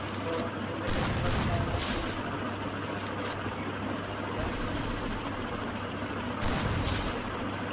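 Gunfire from the Free Fire video game comes in rapid bursts and scattered volleys over a continuous game background, at a moderate level.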